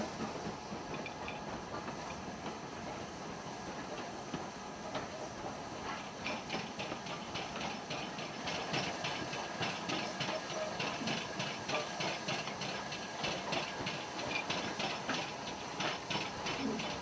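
A steam train on the North Yorkshire Moors Railway hisses steadily as it pulls into Grosmont station, with rhythmic clickety-clack of wheels over rail joints growing more pronounced over the long stretch.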